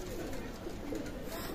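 Pakistani pigeons, including a Teddy running pair, coo in a low, steady murmur that fills the whole short stretch at a pigeon loft, with no voices over it.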